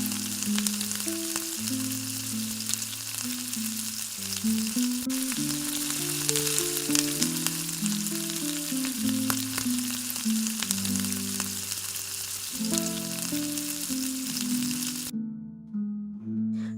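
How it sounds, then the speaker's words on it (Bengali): Boiled eggs frying gently in a little oil in a wok give a continuous close sizzle with occasional crackles. No one speaks, and the sizzle cuts off near the end. "কড়াইতে অল্প করে তেল দিয়ে ডিমগুলোকে হালকা করে ভেজে নিচ্ছি"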